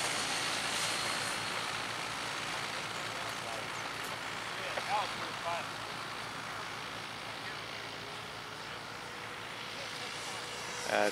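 A MiG-17 90mm ducted-fan RC model jet at half throttle gives a steady, loud broadband jet roar that holds evenly throughout, with outdoor wind and a few faint voices beneath it.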